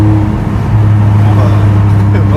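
Steady low engine drone from inside a BMW 330Ci with Stage 1 tuning as it accelerates, a strong continuous hum with rising harmonics, loud and close, with no talk over it.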